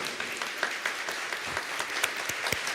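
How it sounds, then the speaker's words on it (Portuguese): A congregation clapping at a church talk, moderately faint, with individual claps popping out of a thick, continuous patter. "Dá uma salva de palmas para você, faz favor."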